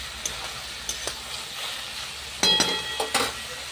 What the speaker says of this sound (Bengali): ঢাকা দিয়ে লাল করে ভেজে নেবো।